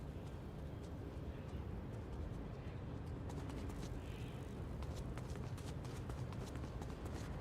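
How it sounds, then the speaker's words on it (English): Running footsteps in LEGO Fortnite, a steady rapid patter of light thuds that carries on through the whole stretch over a dense background of game noise. "Oh, footsteps."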